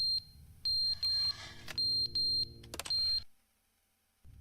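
A beeping alarm in The Stanley Parable Ultra Deluxe sounds as a series of sharp, high electronic beeps in short repeated bursts, loud and close, then cuts off abruptly into silence.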